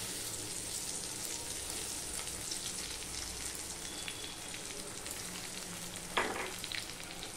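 Potatoes fry in a pan with ginger paste and slit green chillies, giving a steady, close sizzle throughout with a brief louder burst of spattering near the end.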